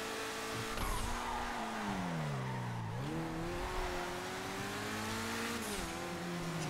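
A Lampadati Tropos Rallye car in GTA 5 revs loudly up and down through rising and falling engine pitch, with brief tire squeal, close and continuous with no talk.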